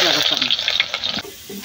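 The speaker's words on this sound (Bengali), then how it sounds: "আমি তেলে পেঁয়াজ দিতেছি।" Onion hits hot oil in a cooking pot and sizzles, with a loud bright hiss that cuts off abruptly partway through, leaving only faint low noise.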